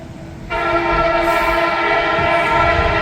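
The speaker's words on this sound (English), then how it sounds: "We got a northbound train on the way." A northbound Norfolk Southern freight train sounds its horn in a long, loud sustained blast as it rolls past a crossing at Wyoming Avenue, with rumbling wheels underneath, heard up close.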